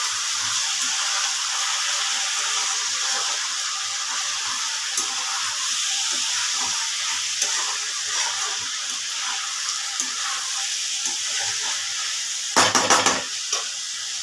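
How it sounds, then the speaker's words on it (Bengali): Potatoes frying in a pan, a steady close sizzle with faint stirring clinks, one brief louder clatter near the end, and no talking. "আর একটু ভাজা হবে আলুটা, আর একটু ভাজা হবে।"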